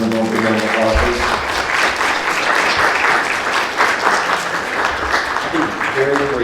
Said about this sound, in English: Let's give all our presenters one more round of applause.